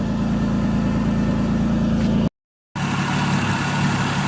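Car engine running at a steady idle after a cold start on a misfiring slow car, a continuous low rumble close by, briefly cut out mid-clip before resuming.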